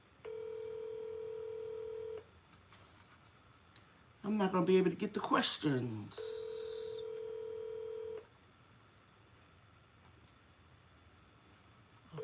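Telephone dialing tones during a live garden chat: two steady two-second tone bursts, with a voice speaking clearly in the gap between them.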